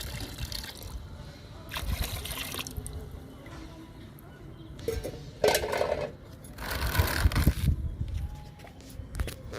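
Soaked plant-fertiliser liquid pours and trickles into water in a container in a few short bursts, close by, with a voice speaking at times.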